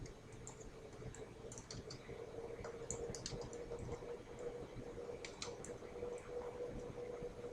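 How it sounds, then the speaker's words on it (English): Light keyboard clicks tapping away steadily at a computer, soft and fairly close, with a low steady hum underneath and no voices. "you're going to type in invalid age group"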